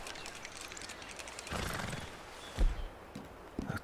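A horse in the Red Dead Redemption 2 game whinnies and snorts close by, with a few hoof clops and shuffling in between, no talk over it.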